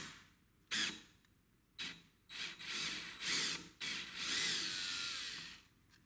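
A power drill backs out an old door strike plate screw in several short bursts, each a whirring grind with pauses between, the last run longest; close and fairly quiet, without talk.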